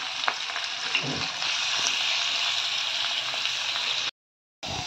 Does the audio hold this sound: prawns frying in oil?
yes